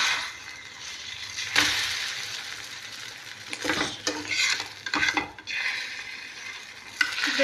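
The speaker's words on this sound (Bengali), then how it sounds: "দেওয়ার পর এটাকে আমি সেঁকে ভালো করে সেঁকে নেব" A roti being toasted and fried in a pan while making an egg roll, with steady soft sizzling, scraping stirs and occasional clinks of utensil against the pan, close and fairly quiet, no talk.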